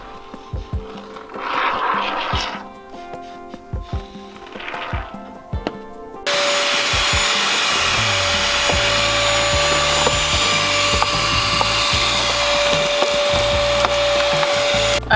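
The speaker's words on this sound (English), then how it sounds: "I've been vacuuming up all the dead bugs and critters that I've been able to get in before I seal." A vacuum cleaner sucks up dead bugs inside a barndominium being insulated. Knocks and clatter of handling come first, then the motor switches on and drones loudly and steadily with a high whine, with a few bumps as it works.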